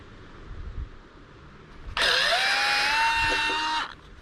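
Fanttik Nex L1 cordless drill running a 1.25 inch spade bit at speed 6, a loud whirring burst of about two seconds that rises in pitch as it spins up, close and alone.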